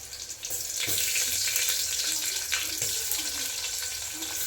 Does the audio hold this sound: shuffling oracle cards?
no